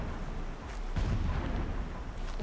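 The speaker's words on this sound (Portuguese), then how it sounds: "Explosões à distância." Distant explosions in the video game Horizon Zero Dawn rumble as a low, continuous booming roll, with a heavier burst about midway, muffled and far off with no talk over it.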